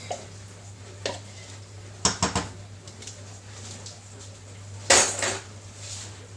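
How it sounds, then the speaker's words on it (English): A spoon stirs chicken curry with milk in a pan, giving a few sharp clinks and scrapes in short bursts over a low, steady room hum. "Give it a stir."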